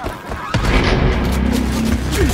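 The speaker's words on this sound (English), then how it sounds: "Oh, a grenade out." A grenade blast in the shooter Wolfenstein Youngblood, a sharp boom followed by rumbling debris and continuing combat noise, loud and close, with no talking over it.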